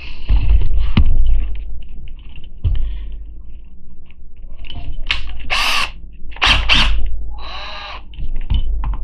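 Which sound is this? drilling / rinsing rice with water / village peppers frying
drilling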